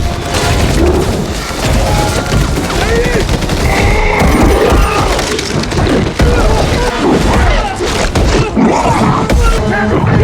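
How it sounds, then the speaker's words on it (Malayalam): Police gunfire in a chaotic fight scene from the 2018 film Venom, heavy bursts and booms layered continuously over a dense, loud action soundtrack throughout. "പക്ഷെ പോലീസുകാർ വെടിവെക്കാൻ തുടങ്ങി."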